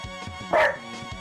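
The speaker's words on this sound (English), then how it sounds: "You get your treat and you just think it's barking time." A pet dog named Spike barks after getting a treat: one loud, close bark in the middle of the clip, with softer whimpering and yipping before and after it.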